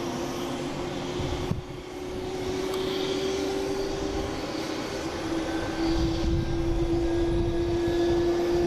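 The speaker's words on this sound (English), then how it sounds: "Southwest here firing up in the alley." A Southwest airliner starts up its engines in an alley at Boston Logan International Airport, a loud steady jet whine with a slowly rising tone over a broad roar, heard outdoors without talk.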